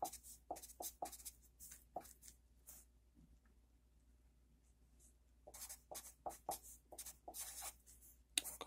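Quiet scratching of a pen writing on paper in short, close bursts, with a silent pause in the middle before the strokes resume.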